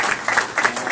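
Congress audience applauding in a hall, a brief dense burst of many hands clapping steadily for about a second.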